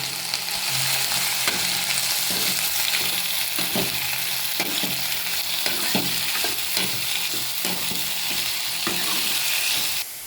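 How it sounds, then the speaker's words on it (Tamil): Cluster beans with onion and turmeric sauté in hot oil, a dense, steady sizzle running throughout with regular close scraping stirs of a spatula against the pan. "இப்போ கொத்தரங்காய் போட்டு நல்லா ஒரு வதக்கு வதக்கி விட்டோம்"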